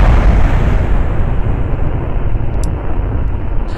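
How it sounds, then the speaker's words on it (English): Heavy, continuous rumbling roar like explosions and rocket thrust in Kerbal Space Program, loud and broadband, easing slightly over a few seconds with a couple of faint high clicks. "don't ask me what those explosions were"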